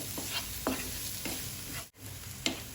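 Spiced tomato masala sizzles and fries in a pan for a soya curry, with a few stirring scrapes cutting through the steady crackle.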